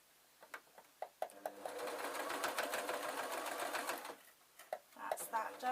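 A domestic sewing machine stitches a tweedle muffler, running in a steady whirring burst for about three seconds between short clicks and taps of handling the fabric, close and clear.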